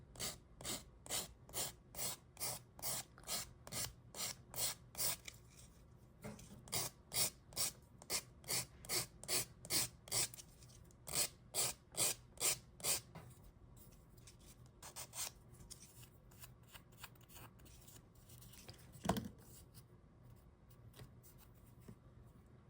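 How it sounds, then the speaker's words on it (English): Cardstock earring edges being filed down with a nail file, rapid rhythmic rasping strokes in quick bursts close up, slowing to scattered softer rubs, with one sharp knock near the end and no talk. "We can go ahead and file the edges down. Get rid of the excess cardstock."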